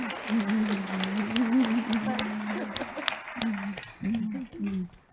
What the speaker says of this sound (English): Let's give Ellen Ann Fentress and Rita Watts Boone a round of applause again.